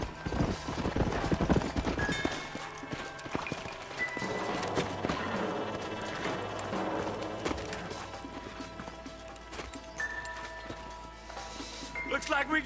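Horses' hooves clip-clop as riders approach the old Pleasance house in the Western video game Red Dead Redemption, a busy rhythmic trotting mixed with other in-game noises throughout.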